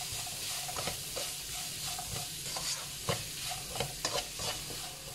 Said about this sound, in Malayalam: സവാള നന്നായിട്ട് വരട്ടിയെടുക്കുക